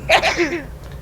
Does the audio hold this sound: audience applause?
no